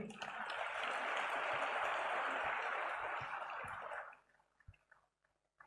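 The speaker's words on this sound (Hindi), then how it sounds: "जोर से तालियां तो होनी है" An audience at a CSC Academy event bursts into loud, dense applause that holds steady for about four seconds, then stops abruptly, leaving a few scattered claps and faint noise.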